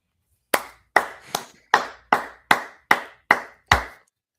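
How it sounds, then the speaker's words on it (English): One person claps their hands nine times in a steady rhythm, each clap crisp and close with a short ring in a quiet room, and no talk over it. "I'm clapping my hands"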